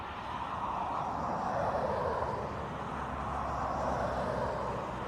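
An Aer Lingus airliner flies the downwind leg at Dublin Airport, its engines giving a steady, broad roar that holds at a fairly constant level throughout, moderately distant with no voices.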